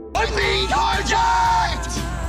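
A man in a film scene yells loudly in protest as his sports car is stolen. The drawn-out, strained shouts fill the clip, close and dominant.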